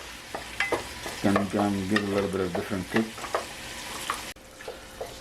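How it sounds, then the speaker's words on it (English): Onions frying with crushed chili in olive oil, sizzling and being stirred close by in a pan, with a voice talking over the cooking throughout. "while we're frying these onions with a little bit of chili, olive oil"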